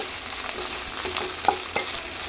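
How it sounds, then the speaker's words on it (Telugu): Capsicum masala curry is stirred in a kadai, a soft sizzle running under a few scraping strokes of the spoon, with one sharper metallic clink. "కలుపుతూ ఉండాలి"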